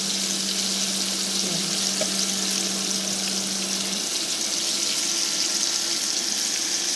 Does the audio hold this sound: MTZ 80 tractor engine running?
no